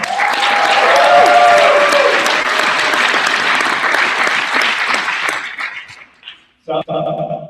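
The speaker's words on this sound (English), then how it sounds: "So give yourselves a round of applause." A forum audience breaks into loud, sustained applause that swells early and fades over several seconds. A voice then begins speaking alone over a quieter room.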